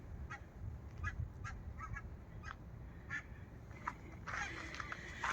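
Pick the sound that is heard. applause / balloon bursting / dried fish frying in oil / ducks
ducks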